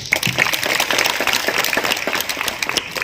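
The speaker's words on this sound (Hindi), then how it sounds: "एक बार जोरदार तालियां हो जाए इनके लिए" A hall audience at a Hindi poetry gathering on women's empowerment applauds a poet, with dense, steady clapping from many hands that holds at an even level for three seconds and is not mixed with speech.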